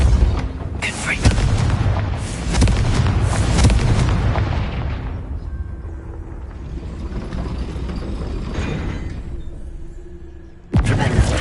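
Spell-blast explosion from a Harry Potter-style PS4 video game, a heavy booming burst with rumbling debris that swells loud, fades over several seconds, then a sharp new blast hits near the end.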